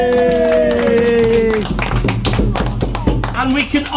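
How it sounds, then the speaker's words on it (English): A small group of family members at a Halloween gathering in Gwrych Castle claps for Auntie after her dance, with irregular close claps and taps under cheering voices and talk. "Give Auntie a round of applause!"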